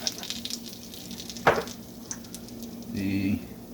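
Garlic butter sizzles and crackles steadily in a pan, with a sharp scrape or clink midway and a brief low hum near the end.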